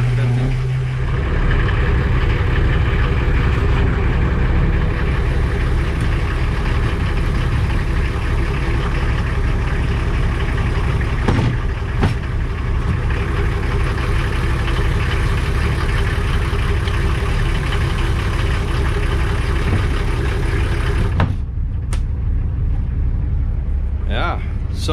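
Volvo TMD40 marine diesel engine idling aboard a boat at roughly 750 to 800 RPM, a steady low rumble that holds evenly throughout, with someone talking over it.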